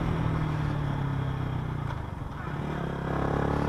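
A rented 150cc motorcycle droning steadily while being ridden on roads around Chiang Mai, Thailand, a loud continuous engine note with wind rush and a slight dip and shift in pitch midway.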